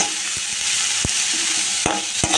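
Vegetables for veggie fried rice sizzle steadily in a hot pan, with a few sharp clacks of a spatula scraping and stirring against the metal, close and continuous with no voices.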